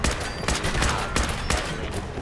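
Combat rifle gunfire in the video game Fallout 4, a loud rapid string of close shots cracking in quick succession with no pauses.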